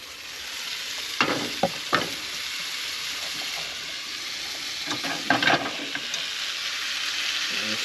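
Potatoes fry on a Camp Chef Deluxe camp stove with a constant close hiss of sizzling grease, broken by a few distinct clanks and scrapes of a utensil against the pan; no one speaks.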